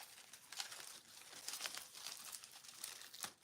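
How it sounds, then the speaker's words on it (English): Greenery stems being snipped and cut apart for a beginner's year-round wreath, with crisp rustling and crinkling of leaves close by in a steady, busy rhythm and no talking. "I'm just cutting these up"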